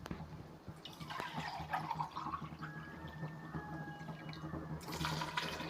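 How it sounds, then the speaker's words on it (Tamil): Coconut milk poured from a cup into a pot of rice during home cooking of veg pulao, a soft steady liquid stream with gentle splashing and small kitchen clatter, close and fairly quiet. "தண்ணிக்கு பதில் நான் தேங்காய் பால் சேர்த்துக்கிறேன்"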